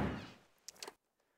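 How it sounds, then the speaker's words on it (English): In the video game 9 Hours, 9 Persons, 9 Doors, a door bursts open with a dull thump that fades, then a few quick knocking clicks before abrupt silence, faint overall. "The door burst open and Junpei exploded out of it"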